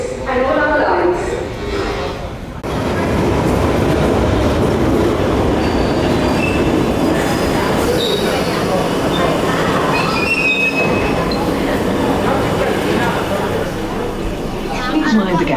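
A London Underground Piccadilly line train rumbles and rattles through the tunnel with squealing wheels and clattering carriages, loud and close, while a recorded voice speaks over the noise.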